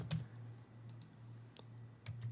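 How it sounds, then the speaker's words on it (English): Several sharp key presses on a computer keyboard as a number is typed in, a few scattered clicks over a low steady hum, fairly close and quiet, with no talking. "So I'll type that in"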